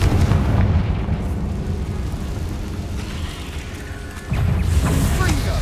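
A Confringo fire spell explodes in the video game Hogwarts Legacy with a heavy, rumbling blast, then sustained low roaring and crackle, and a second loud burst hits near the end, with a voice briefly heard.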